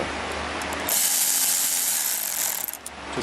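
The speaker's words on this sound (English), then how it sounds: "putting these bolts back on, you just need to snug them up" Bolts are run into an aluminum water pump housing on a 1994-96 Impala SS, giving a loud continuous mechanical rasp that rises sharply partway through and then ends with a few ratchety clicks.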